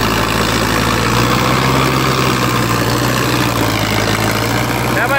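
A tractor engine runs steadily nearby, a loud continuous low diesel chug with a constant hum and no breaks.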